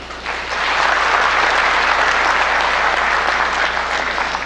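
A room full of people claps together, building quickly and holding as a steady, dense round of applause.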